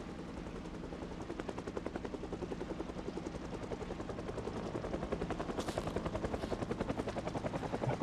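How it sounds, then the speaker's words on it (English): A helicopter in the video game Project Zomboid flies overhead, its rapid, steady rotor chop thudding continuously and swelling gradually louder as it draws nearer, with no voices over it. "There's the chopper."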